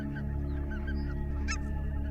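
Geese honk on coastal meadows at a large nesting ground, scattered calls over a steady low rumble, with one louder honk near the end of the brief stretch.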